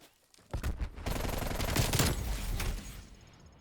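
Gunfire in Call of Duty: Black Ops Cold War starts after a brief quiet and runs as a loud, dense burst of rapid shots and impacts, then fades near the end.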